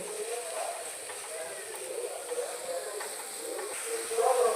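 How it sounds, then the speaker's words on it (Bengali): Onion paste frying in hot oil in a pan for a prawn malai curry, giving a steady close sizzle and hiss that swells slightly toward the end, with no talk over it. "পেঁয়াজ বাটাটাকে একটু খুব ভালোভাবে তেলের মধ্যে দিয়ে কষিয়ে নেব।"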